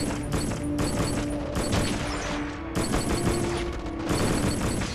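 Sniper rifle fire and heavy gunfire in the PS2 shooter Black, a dense continuous barrage of loud shots with mechanical clatter throughout, brief lull near the middle, no voices.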